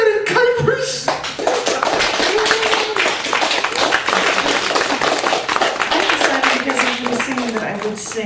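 Audience applause for a poet and singer at a gallery cabaret poetry night, a dense, steady wash of clapping that fills the room for several seconds, with a few voices and cheers mixed in.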